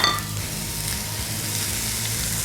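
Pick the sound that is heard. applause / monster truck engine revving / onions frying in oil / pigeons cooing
onions frying in oil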